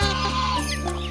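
A chicken on a rural farm in Long An, Vietnam, gives a quick cluck or two, close and fairly loud, against a steady low hum in the background.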